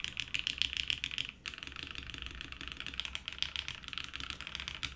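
Rapid typing on a shiny computer keyboard, dense clacky keystrokes close up with a brief pause, then steady fast tapping again.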